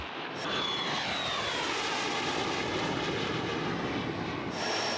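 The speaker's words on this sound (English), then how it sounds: "The Messerschmitt 262 lives again." Messerschmitt 262 jet fighter, a newly built reproduction in Washington State, roaring steadily and loudly throughout, with a broad continuous jet rush and a faint rising whine.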